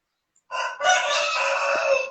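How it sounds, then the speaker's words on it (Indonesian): A rooster crows in one loud, drawn-out call that starts half a second in and holds steady to the end, near and clear, with no talk over it. "di belakang background suara ayam ya"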